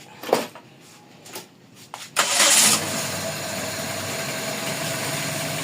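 Toyota 4A-FE engine starting: a few faint clicks and cranking attempts, then it catches with a loud burst and settles into a steady, even idle, heard up close.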